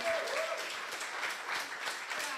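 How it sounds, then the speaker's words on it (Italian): Audience applause at a public security talk, a steady dense clapping from a crowd lasting the whole moment, fairly close and even in level, with no voices over it. "io gli darei un applauso"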